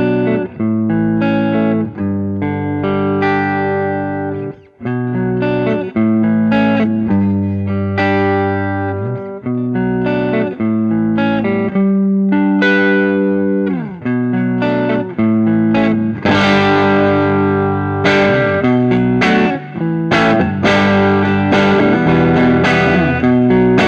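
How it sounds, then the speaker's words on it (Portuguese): An electric guitar for blues plays a clean tone that carries its own slight distortion. Loud, continuous notes and chords are strummed and picked close by, with a brighter, busier burst of playing near the end. "No entanto, ela por si só já tem uma distorção no som limpo dela"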